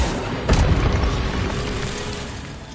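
An Accio spell cast in Hogwarts Legacy, a single deep magical boom near the start that fades into a low rumbling tail.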